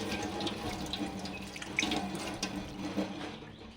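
Food being washed under a running kitchen tap: a steady stream of water splashing into a sink, with irregular clatters and drips as items are handled, fairly quiet and close, with no talking.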